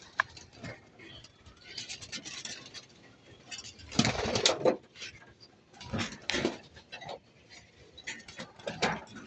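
Racing pigeons in a loft, soft cooing and fluttery scuffles with sharp bursts of wing flapping and shuffling, close and uneven, rising and falling over several seconds with no speech.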